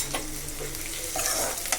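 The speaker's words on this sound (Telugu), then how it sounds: "ఆయిల్ అయితే హీట్ అయిపోయింది. ఇప్పుడు ఉల్లిపాయలు కూడా వేసేసుకుందాం" Onions sizzle and crackle loudly in hot oil for a chicken dish, a steady close frying hiss with the scrape of stirring over it.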